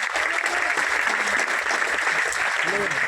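Loud, dense clapping from an audience at an Indian Ayurvedic product presentation, steady and unbroken for the whole stretch, with a few voices blended into the roar.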